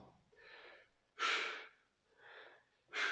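Rhythmic, effortful breathing during chair dips in a HIIT workout: alternating breaths in and out with short pauses, the stronger puffs blown out on each push up, close and alone with no talking.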